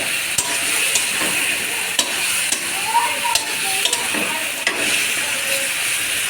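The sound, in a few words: potatoes frying and being stirred in a pan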